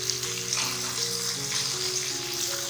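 Onions and tomatoes sizzle steadily in a pan for masala bhindi, a continuous crackling fry under a faint background tone, with no talk.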